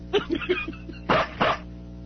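A dog in a radio studio gives a few small yips followed by two louder barks, close and brief, with a low hum in the background.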